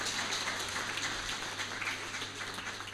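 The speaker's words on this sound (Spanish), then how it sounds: "le damos un fuerte aplauso a don Pablo Rioseco" Audience applause at an agricultural vegetable-growing seminar for rural youth, a steady moderate-level wash of clapping from a room of listeners lasting throughout with no voices over it.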